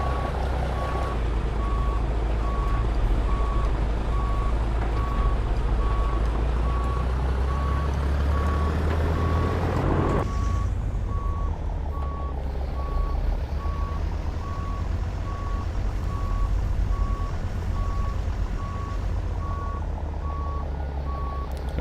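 Steady electronic reversing beeps from a heavy truck in American Truck Simulator, repeating in a regular rhythm over a loud, continuous low engine rumble, with the tone shifting partway through.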